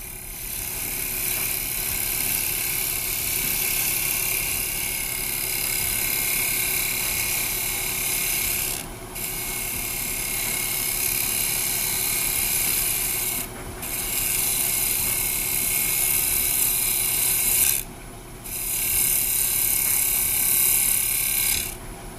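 Woodturning pass with a carbide tool on a lathe, a sustained rasping scrape of the cutter against spinning wood, broken by a few short pauses as the tool moves, close and fairly loud.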